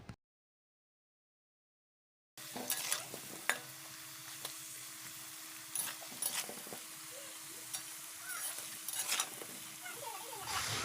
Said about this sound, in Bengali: চলো, এবার আলুটা লাল লাল করে ভেজে নেবো